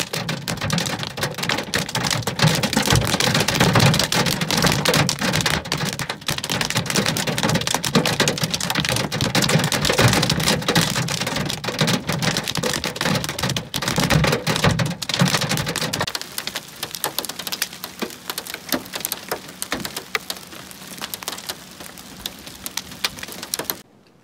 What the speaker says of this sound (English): And now we can hear the hail falling